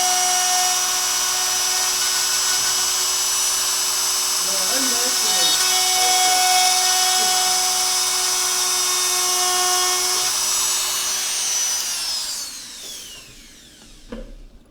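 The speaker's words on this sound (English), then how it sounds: "Drilling shit out of boards is my new hobby." A power drill boring into boards gives a loud, steady, high-pitched whine for about twelve seconds, with a brief voice partway through, then spins down and fades to near silence.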